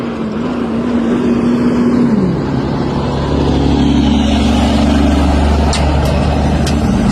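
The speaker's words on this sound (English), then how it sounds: "here comes the truck." A truck drives past close by on a road, its engine droning and shifting pitch as it goes, with a brief hiss near the end; no talking over it.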